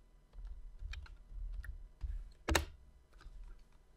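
Keys on a computer keyboard clack in a short burst of typing, with a handful of quiet separate taps and one louder, sharper strike near the middle, close and isolated in a quiet room.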